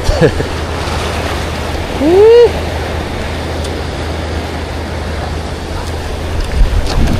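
Big ocean waves and strong wind at sea, with surf roaring and gusting wind buffeting the microphone throughout, a steady loud wash with a brief swell of noise midway.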